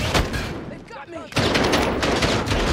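Rapid loud blasts from a Street Sweeper shotgun in Call of Duty Warzone Caldera, heavy repeated shots filling the clip with a short lull in the middle, game voices faintly mixed in.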